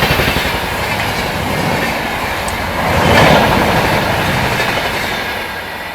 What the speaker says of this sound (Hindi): ये थी पुरुषोत्तम एक्सप्रेस जो कि दिल्ली के आनंद विहार से नई दिल्ली के बीच में चलती है